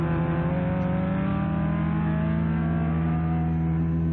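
A race car engine in a radio drama, loud and close, holding a steady roar with rising harmonic whine as the vehicle draws alongside and sweeps past, continuous throughout with no talk.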